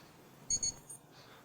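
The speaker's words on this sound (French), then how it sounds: "un chrono et un réveil matin. Et puis elle sonne les heures." Wristwatch alarm with chronograph and hourly chime sounding, two quick faint high electronic beeps followed by a weaker third, alone in a quiet room.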